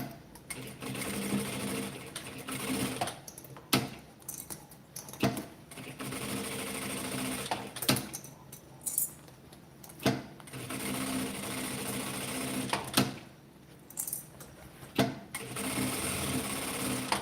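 A sewing machine stitches a short securing seam on fabric scraps in repeated bursts of fast mechanical whirring. Brief pauses and clicks fall between the runs, heard up close.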